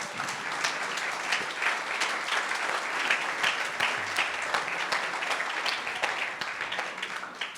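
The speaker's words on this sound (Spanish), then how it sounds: "Dele un aplauso a todos los profesionistas que hay aquí." A church congregation at a Buena Tierra Cuernavaca service claps in a dense, sustained round of applause, moderately loud and steady, with no talk over it.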